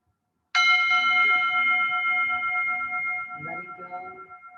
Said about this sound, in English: Allow the sound of the bell to bring you a little deeper to the present moment